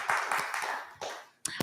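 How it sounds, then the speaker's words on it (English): Applause at a Dallas networking social, with a small group clapping in short, uneven bursts at close range, briefly dropping off and then resuming. "Let's give Eddie a round of applause"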